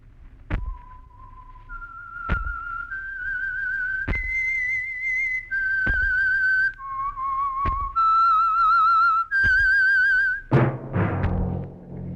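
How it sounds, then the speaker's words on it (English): A melodic whistled tune, the signature of a 1940s radio program, rises and falls in clear sustained notes, punctuated by regular low thumps, ending in a burst of noise. "That whistle is your signal for the Signal Oil Program"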